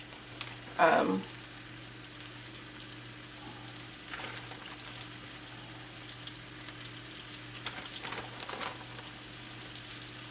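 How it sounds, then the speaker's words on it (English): Small pieces of fish fillet frying in a pan give a steady, soft sizzle close by. A sharp clatter comes near the start, and a few faint stirring scrapes follow. "the fish is gonna cook for about 3 minutes on a side"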